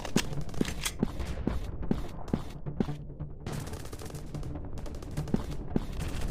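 Rapid gunfire in the PUBG shooter game, a series of sharp close shots in quick irregular bursts with brief pauses between them, carrying over a continuous game background.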